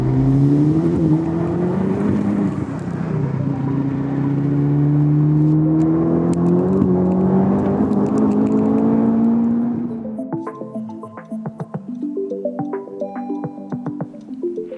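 A tuned Honda Civic Type-R FK8 on a road test, its engine revving and pulling through rising and falling pitches for about ten seconds, loud and close, then backing off to lighter blips and an uneven idle.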